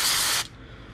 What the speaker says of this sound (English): Anywhere that there's a bearing, you want to spray it out